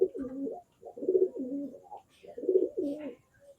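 A female pigeon cooing close up in three repeated rolling phrases, each low throaty coo separated by short pauses.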